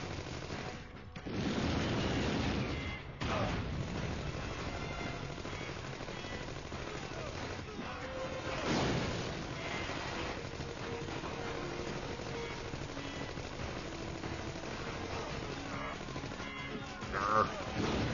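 Gatling gun enemies fire in the Wolf of the Battlefield: Commando 3 video game, a dense and continuous rattle of gunfire with explosive bursts. It runs nonstop for the whole stretch, loud and steady, with voices mixed into the busy game noise.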